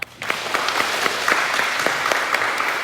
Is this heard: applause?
yes